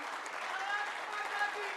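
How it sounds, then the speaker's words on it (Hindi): An audience at a Hindi poetry recital gives brief, fairly faint applause, a steady patter of clapping. "कमजोर तालियां आपकी"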